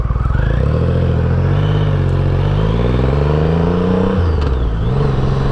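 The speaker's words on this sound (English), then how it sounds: "So you listen to that exhaust a little bit here." A Triumph Rocket III motorcycle engine runs loud and close through its exhaust, with a deep, steady rumble. The revs rise and fall in a few smooth sweeps.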